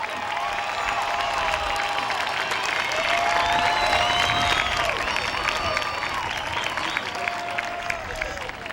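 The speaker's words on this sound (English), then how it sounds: "Graduates, please give them the applause they deserve." A large audience at a 2002 Pennsbury High School graduation ceremony applauds steadily throughout, dense sustained clapping with scattered cheers and whoops mixed in, loud and continuous from start to finish.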